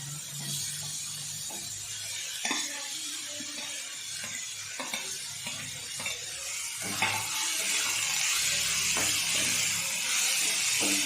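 Chopped onion sizzles in a pan while cabbage is added for a mixed dal appe batter, with scattered stirring clicks of a spoon against the pan over a steady frying hiss.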